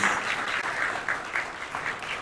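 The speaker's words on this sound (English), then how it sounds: "Big round of applause to Honorable Londo" Audience applause at a Tanzanian trade and logistics business forum, a steady, fairly distant wash of many hands clapping with no voices.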